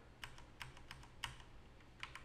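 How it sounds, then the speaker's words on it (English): Arrow keys on a computer keyboard struck one at a time in an irregular pattern of sharp, close clicks over a faint background hum, about eight taps spread across a couple of seconds. "This is me just striking the arrow keys on the keyboard."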